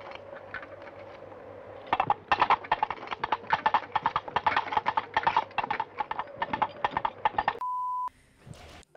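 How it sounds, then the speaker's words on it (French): Rhythmic clip-clop of horse hooves in the video game Portal Knights, a coconut-style effect trotting at a steady, fairly loud pace before a short electronic beep near the end. "bruitage de cheval avec des noix de coco là"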